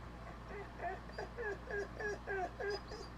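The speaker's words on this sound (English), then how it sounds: "Y'all hear that, puppy dog? That's pitiful." A puppy whimpers in a run of high, plaintive whines, about eight rising and falling cries in steady succession, close and fairly clear over a low background hum.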